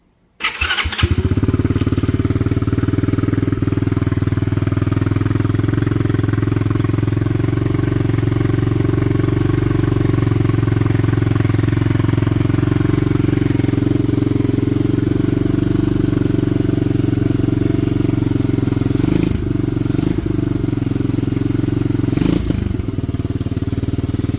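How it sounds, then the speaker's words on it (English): A Venom 125 motorcycle engine, not running quite right, catches and runs steadily for over twenty seconds, a loud, rough idle close by with a couple of brief revs near the end. "Let's see if it fires up, folks."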